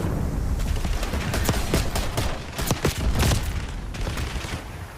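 Video game gunfire rattles in dense rapid bursts, loud and continuous, with booming low-end impacts and no voices.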